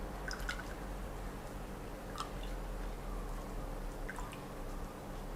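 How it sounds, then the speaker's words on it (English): Thai tea drips and squishes faintly as it is squeezed out of a cloth filter, with a few soft wet drips over a quiet background. "I'm going to squeeze the tea out here."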